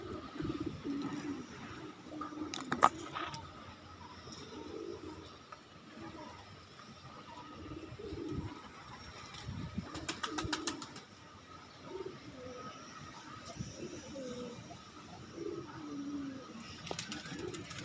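Pigeons coo steadily inside a loft on a hot day, soft repeated low calls layered with occasional wing flaps and brief clatter, while a person talks quietly nearby.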